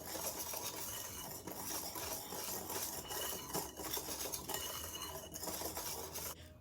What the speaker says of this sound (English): Give a quick whisk until everything's well incorporated.